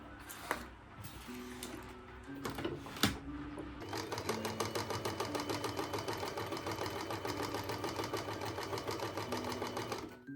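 A sewing machine stitches a pink cross stitch Christmas cracker, starting with a few short bursts and knocks, then running steadily in a fast, even mechanical rattle from about four seconds on, close and alone.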